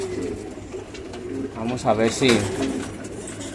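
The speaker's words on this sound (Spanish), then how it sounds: "Ahí están las palomitas ya." Racing pigeons coo softly in a loft during a race day, low murmuring calls rising briefly in the middle while someone talks over them.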